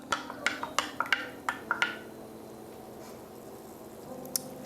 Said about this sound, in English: And let me stir this up